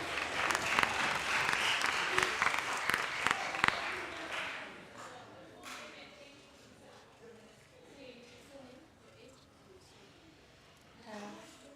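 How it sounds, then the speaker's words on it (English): Audience applause at a children's climate summit, loud and sharp for the first few seconds, then thinning into scattered claps and faint room murmur with brief voices. "Please let's give a round of applause."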